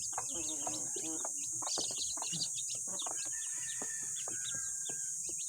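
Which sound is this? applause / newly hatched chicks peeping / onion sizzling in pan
newly hatched chicks peeping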